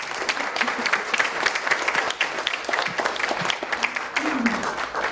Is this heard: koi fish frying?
no